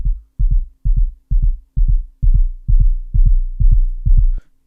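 A punchy techno kick drum shaped with an envelope in Ableton thumps in a steady even pulse, about ten deep booming hits with sharp attacks, loud and alone.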